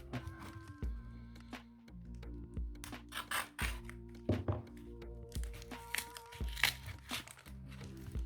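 A parcel of Pokémon cards bought secondhand is torn open and unwrapped, with crinkling plastic and paper, soft thunks and rustles coming close and intermittent, under a low background hum.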